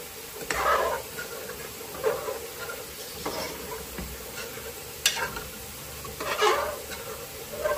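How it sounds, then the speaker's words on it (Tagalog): Pork belly sinigang is stirred in a pot, with quiet scraping and sloshing strokes recurring every second or so, faint and close, against a soft background hiss and no talking. "haluin natin para matanggal yung mga dumikit"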